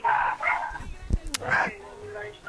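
A small dog yaps and barks a few times in short bursts during a late-night radio show, mixed in with ongoing talk from people in the room.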